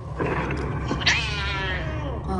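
A pet cat named Monsieur Smithers meows with a drawn-out, wavering call that rises sharply near the middle, close by over a steady low hum.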